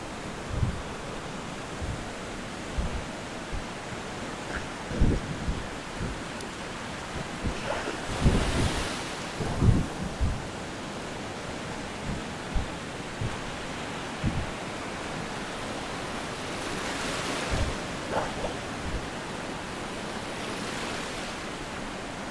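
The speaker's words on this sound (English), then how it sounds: "Listen to the waves and the breeze." Ocean waves wash steadily onto a beach, with breeze and wind buffeting the microphone. Low thumps recur throughout, and louder surges of surf build and fade in a continuous, immersive wash with no talking.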